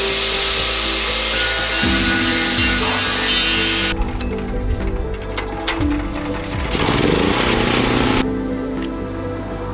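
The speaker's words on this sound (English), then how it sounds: "now I'm gonna go ahead and grind down these welds so that I have a nice flat surface to weld" Angle grinder grinding down welds on a bus conversion, a loud continuous harsh whine that shifts pitch as the disc bites and eases off, running steadily throughout without speech.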